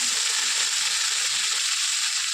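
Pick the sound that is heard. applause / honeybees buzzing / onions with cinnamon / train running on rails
onions with cinnamon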